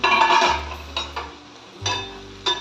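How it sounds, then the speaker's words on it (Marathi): A metal lid lifted off a pan of cooking shimla mirch (capsicum) bhaji, heard as a few light clinks and clatters over a low bubbling hum from the stove, close and quiet, with no talking. "आता आपण झाकण उघडून बघूया"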